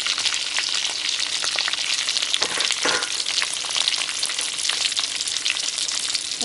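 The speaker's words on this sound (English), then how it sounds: "So get all your onions in there." Chopped onions fry in a pan with curry leaves and pandan leaf for a Sri Lankan beef curry, giving a steady, close sizzle with crackling and occasional stirring scrapes throughout.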